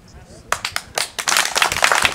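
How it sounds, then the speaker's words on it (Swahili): Crowd applause at a political rally welcoming a new member, starting abruptly after a short lull and swelling into loud, sustained clapping with scattered sharp claps. "Tupigie makofi mengi sana."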